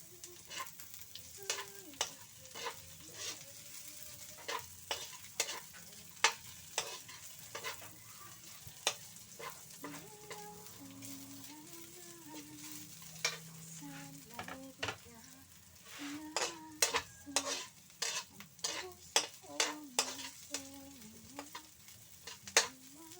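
Fish sarsiado sauté in a pan, with frequent sharp scrapes and clacks of a utensil stirring over a steady sizzle of frying, fairly close and moderately loud, some bursts rapid and clustered, no speech.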